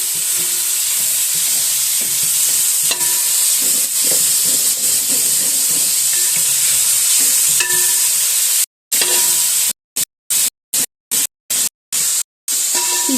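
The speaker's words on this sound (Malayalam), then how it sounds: "4 സബോള ഇട്ട് വഴറ്റുക" Four sliced onions sautéing with garlic and ginger in a small kitchen for a chicken dish: a loud, constant hissing sizzle with occasional stirring clicks, broken near the end by a rapid series of short dropouts to silence.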